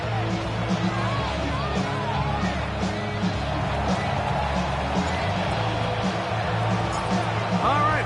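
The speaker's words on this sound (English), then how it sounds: "The crowd is definitely ready." Stadium crowd noise in an EA Sports football video game, Chiefs versus Giants, a dense steady roar with scattered whoops and cheers underneath an announcer's talking.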